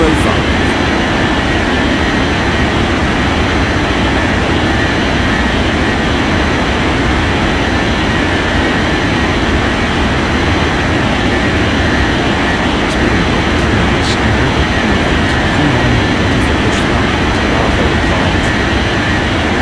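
Jet airliner engines roaring steadily during takeoff in an air traffic control simulation game, a continuous loud broadband rumble filling the whole stretch with little change.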